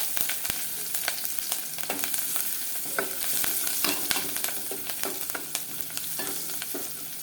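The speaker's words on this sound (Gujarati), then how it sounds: "પછી જે આપણે કાપેલા મરચાં છે એ મરચાં નાખી દઈશું એના અંદર" Chopped green chillies frying in hot oil with turmeric and asafoetida for a cabbage and chilli sambharo, a steady close sizzle broken by frequent scraping and stirring clicks throughout, with no talking.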